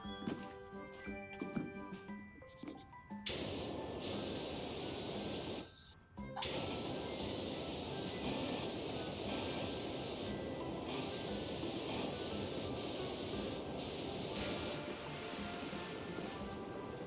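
A pressure washer spraying in PowerWash Simulator, a loud continuous hiss that starts after a brief musical passage, cuts out for a moment, then resumes and runs steadily to the end.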